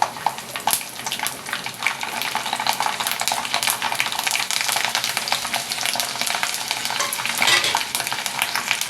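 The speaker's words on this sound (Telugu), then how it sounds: "రెండు ఎండుమిర్చి తుంపి వేస్తున్నాను వెల్లుల్లి తోలు వలిచేసి వేసాను" Dried red chilies and garlic fry in a pan with a loud, continuous sizzle and crackle, close and steady for the whole stretch, with no talking.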